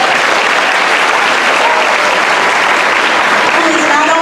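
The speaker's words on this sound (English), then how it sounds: "Let's give him a round of applause." Loud, dense audience applause at a school graduation ceremony, a continuous roar of many hands clapping close to the microphone, with faint cheering or voices mixed in.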